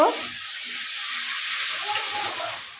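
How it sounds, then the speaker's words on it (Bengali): Potatoes, chopped tomato and green chilli sizzle and hiss steadily in a pan while being stirred, with soft scraping and shuffling textures running through the whole stretch, close and moderately loud, with no talking. "এবার একটু নেড়ে দেব"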